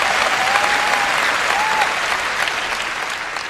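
Church congregation applauding, a steady dense wash of clapping that fades slightly toward the end, with a faint tone or voice briefly audible under it.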